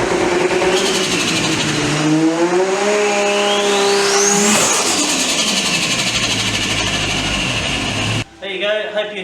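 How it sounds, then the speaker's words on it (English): A 1000HP Ford FG F6 engine boosting hard on rolling anti-lag, loud and close, its revving harmonics climbing and falling over several seconds with popping crackle, then cutting abruptly near the end. "And she's boosting, ready to fry the tyres."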